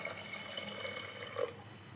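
Water poured into a pot of soaked mutton being readied for haleem, a steady splashing stream that runs through the whole clip, with a brief louder gush near the end.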